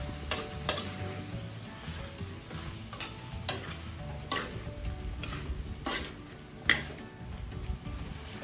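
Kamias and chili sautéing with tomatoes in a pan, soft sizzling under intermittent sharp clicks and scrapes of a utensil, close-up with no talking.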